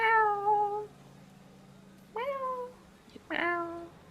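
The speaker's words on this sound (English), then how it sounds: "It sounds like a cat, though." Three drawn-out cat meows in a dark tunnel, each a clear harmonic cry with pauses between, close and fairly loud against a faint low hum.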